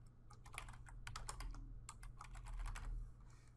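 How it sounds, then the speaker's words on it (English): Fingers tap out text on a computer keyboard in quick, irregular bursts of crisp keystrokes with short pauses, quiet and close over a low background hum. "Then I'll type in some text."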